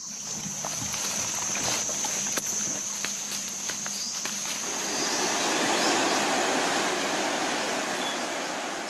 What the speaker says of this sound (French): Une rivière.